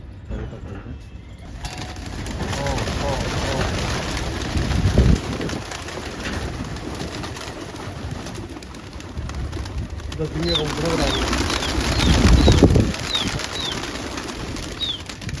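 Pigeons coo softly nearby while wings flap in short bursts, with a person's voice talking in the background and a steady hiss underneath.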